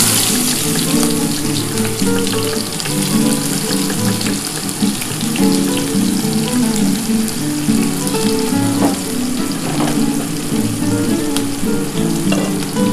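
Garlic and onion frying in hot oil as a tempering with black cumin and dried chillies, a steady loud close sizzle that runs without a break for the whole stretch.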